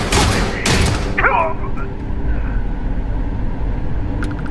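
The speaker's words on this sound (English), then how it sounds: "For a silenced gun in a stealth situation, that was very loud." Gunfire from a silenced weapon in Starfield, a short loud burst of shots at the start that rings out and fades, followed by quieter game ambience.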